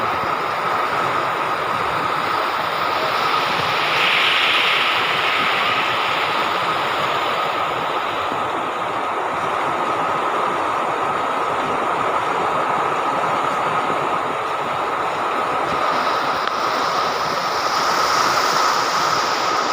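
Heavy typhoon rain driven by wind roars as a steady, dense broadband wash for the whole stretch, loud and unbroken, with a faint gusty swell toward the end and no voices.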